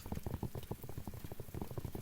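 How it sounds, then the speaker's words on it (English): Heavy rain sounds for ASMR, a dense, quiet patter of drops in rapid irregular bursts, steady throughout with no talking. "You can have some really loud ass rain."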